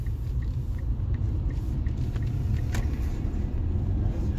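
Inside a car driving through Warrington streets, a steady low road rumble and engine drone fill the cabin, continuous and moderately loud with faint ticks and rattles over it.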